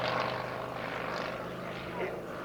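A small vintage aeroplane flies past at an evening air display at Shuttleworth, its propeller engine droning steadily at a distance beneath a commentator talking over a loudspeaker.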